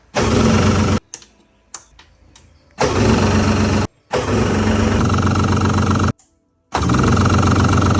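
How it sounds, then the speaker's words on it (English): A 1999 Yamaha jet boat engine cranking without firing, loud and close, in several long starter bursts separated by brief pauses and a few short taps. "we got both of the engines to crank"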